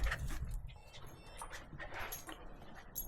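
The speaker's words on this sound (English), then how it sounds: "Where are the shop dogs?" Shop dogs in a workshop whimper and yip softly in short, high, close-up whines over a quiet background, with no talking.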